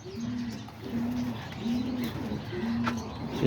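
Homing and roller pigeons coo in a steady series of low, rolling calls, repeating about every half second over faint outdoor background noise, with no one talking.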